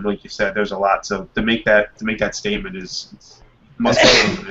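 A single loud sneeze bursts out near the end, close to the microphone, after a stretch of casual conversation between people on a talk show.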